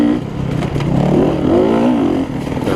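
A race car engine roars loud and close as it accelerates at a track in La Cygne, Kansas, with a steady, strained drone that rises in pitch over a few seconds.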